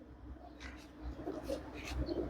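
Andhra pigeons coo softly in a loft, low rounded coos repeating faintly against a quiet background hum.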